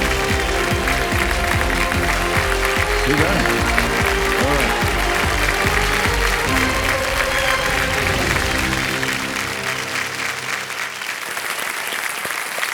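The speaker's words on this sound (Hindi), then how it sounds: "तालियां बजती रहें इनके लिए" Studio audience on a quiz show set applauding, loud sustained clapping that fills the room over music, fading toward the end, with a brief spoken word in the middle.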